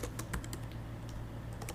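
A computer keyboard clatters under quick fingers, crisp irregular key taps close by over a low steady hum, with no voices.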